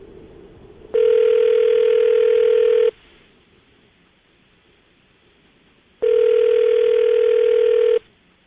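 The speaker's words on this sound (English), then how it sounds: "I'm going to dial the phone number right now, get her on the phone" A telephone dial tone sounds as a radio host calls a listener: two loud, steady electronic tone bursts of about two seconds each, separated by a quiet gap of several seconds.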